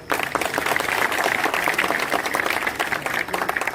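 A crowd of villagers claps steadily for several seconds at a village campaign welcome for an independent candidate, the dense applause fairly close and sustained, with faint voices mixed in beneath.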